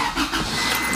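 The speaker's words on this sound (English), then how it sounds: "so let's just go start the car up" A Honda Civic Del Sol engine catches and starts, a brief mid-pitched rumble heard up close for about a second.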